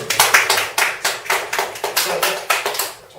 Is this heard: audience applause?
yes